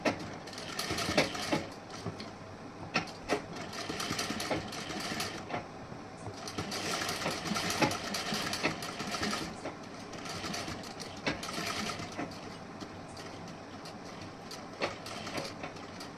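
A sewing machine stitching a princess-cut blouse runs in a steady, dense mechanical whirr, with rhythmic needle clatter that rises and eases in bursts. It stays close and continuous for about sixteen seconds with no speech.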